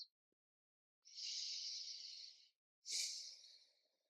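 A person breathes during a yoga low lunge, two slow, close, airy breaths in a quiet room, a long inhale and then a fading exhale with no talking.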